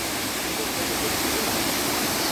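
A powerful waterfall roars up close, a dense, unbroken rush of crashing water that fills the whole scene at a loud, steady level.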